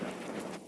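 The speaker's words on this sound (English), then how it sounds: "It's like a lot of rain and a lot of wind." Heavy rain pours steadily during a storm in Charlottesville, Virginia, making a dense, hissing wash with a gusty roar of wind and no voices.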